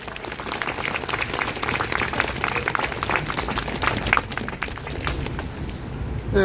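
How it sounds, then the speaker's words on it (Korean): An audience at a Catholic prayer rally breaks into warm, sustained applause, dense clapping holding steady for several seconds with a few louder claps near the end. "뜨거운 박수 부탁드리겠습니다"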